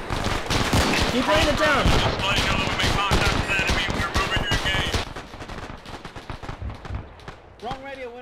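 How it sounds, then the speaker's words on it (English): Bursts of automatic machine gun fire crackle across an ArmA 3 battlefield, sustained and loud for the first half, then thinning into scattered shots, with people shouting and talking over the shooting. "That's a machine gun."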